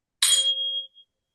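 A 528 hertz healing-frequency tone, presented as the heart chakra love frequency, sounds as a single struck, bell-like ding with a bright metallic attack and a ringing overtone that fades within about a second into silence.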